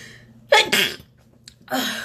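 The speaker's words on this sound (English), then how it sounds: "I think I need to sneeze one more time." A single close, sharp sneeze with a quick intake before it, followed by a breathy exhale.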